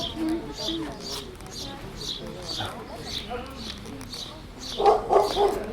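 A dog up on a height barks in a series of short, fairly distant, faint yaps in a countryside setting. Birds chirp, and people talk quietly nearby.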